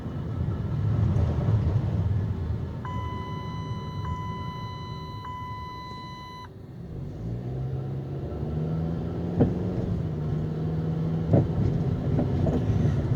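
Rolling rubbing noise from the wheel of an 08 Dodge Avenger while driving, a steady low rumble with road noise and a brief higher tonal chime partway through, no voices.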